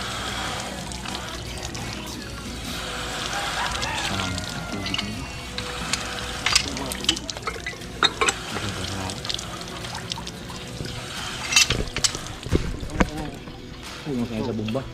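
Water gushes and splashes from a newly installed Jetmatic hand pump on a pipe with a hole in it, a steady pouring wash with sharper splashes, while voices talk over it.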